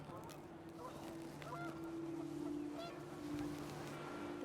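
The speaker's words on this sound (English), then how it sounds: "The wind picked up, and panicked geese appeared and quickly went." Panicked geese honk in the video game What Remains of Edith Finch, several faint, overlapping calls repeating over a windy background rumble, with no talk over them.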